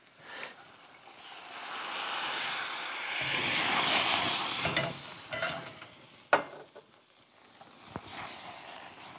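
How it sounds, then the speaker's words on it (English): Mushrooms sizzle loudly in a hot pan, then a splash of cognac hits and bubbles up, with stirring and scraping and a few sharp clinks of utensil on the pan. "Now I can hear my mushroom sizzling."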